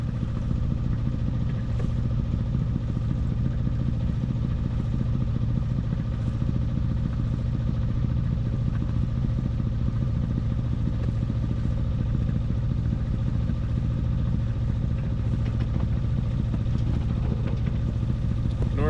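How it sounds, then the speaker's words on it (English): Sailboat motoring under engine power on a windless day near the Yuculta Rapids, a steady low engine drone with rhythmic clatter running continuously and fairly loud throughout, no voices. "And just like that, we are motoring."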